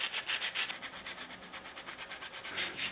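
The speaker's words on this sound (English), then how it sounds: "I finished it with sandpaper that's folded to fit tight in the slot" Steady rhythmic rasping of folded sandpaper rubbing back and forth in a screw slot on a Stanley Bed Rock 607 jointer plane, quick regular strokes, close and fairly quiet, no talking.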